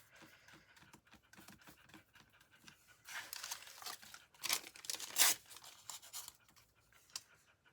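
Piper, a dog worn out from chasing a thrown ball, pants in quick, breathy bursts close by, alone and uneven, growing louder toward the middle before easing off.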